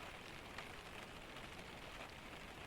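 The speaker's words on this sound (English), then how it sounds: "Outside, the rain continues exactly as it has all night." Steady rain at night striking window glass and trickling down, a soft, even patter with no change in intensity, heard alone without voices.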